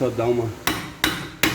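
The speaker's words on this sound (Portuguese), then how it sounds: "batidinha para ele encaixar no lugar" Three sharp, evenly spaced metallic hammer taps, close and clear, seat a rear wheel hub on a Fiat Palio Weekend as someone speaks briefly just before the first strike.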